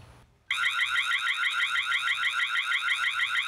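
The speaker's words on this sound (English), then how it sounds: "Tapo has a siren or alarm" A Tapo C120 security camera's siren alarm starts abruptly after a short pause and blares alone, loud and steady with a rapid warbling pulse.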